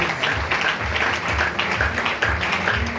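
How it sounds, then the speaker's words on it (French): Audience at an international marathon church gathering in Pointe-Noire applauding steadily throughout, a dense continuous patter of many hands with a few rhythmic clapping pulses, fairly loud and close. "Acclamons très fort"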